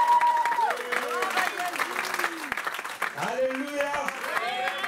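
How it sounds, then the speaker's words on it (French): A church congregation applauds for about five seconds, with clapping running under loud, overlapping voices and cheering. "Donnons une main d'acclamation pour le roi."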